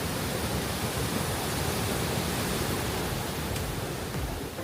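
Sanghagara waterfall pouring down forcefully, a dense, unbroken roar of crashing water that fills the whole clip at a constant, loud level with no other sounds.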